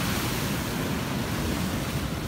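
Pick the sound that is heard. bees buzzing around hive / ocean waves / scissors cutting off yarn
ocean waves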